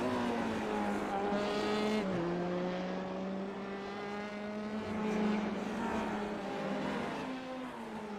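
Race cars roar past in quick succession on a racetrack during an ISRL event, with engines climbing and dropping in pitch as they accelerate and shift, loud and close throughout.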